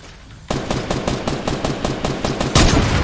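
Rapid repeated gunfire in a Fortnite battle royale match, a fast regular burst of loud close shots after a brief quiet start, ending in a heavier blast.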